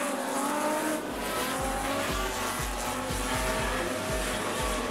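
Super stock race cars lap Rockhampton Speedway, engines roaring loudly and continuously as they pass, with repeated low rumbling surges from the pack and some tire noise, no talk over the racing.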